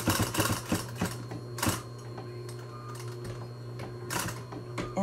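A sewing machine stitches back and forth across a chicken hen saddle, a steady rapid mechanical whir with short pauses and restarts, close and fairly quiet.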